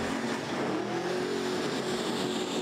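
A Pro Street drag racing car at a doorslammer meet at Santa Pod roars loudly and steadily, its engine a dense, unbroken full-throttle blare that fills the short stretch.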